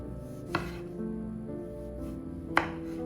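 Two crisp knife chops land on a board as large sweet peaches are cut into thin slices, about two seconds apart, against a steady low background hum.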